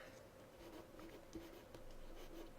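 Pencil scratching and sketching on paper, soft and close, with quick irregular strokes and light taps continuing steadily.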